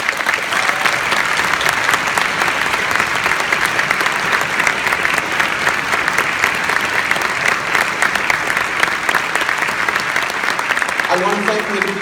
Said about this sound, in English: give the applause to the person who is deserving of it